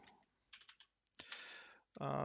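Soft, quiet computer keyboard typing comes in short bursts of clicks with pauses between them, and brief voice sounds mix in near the end.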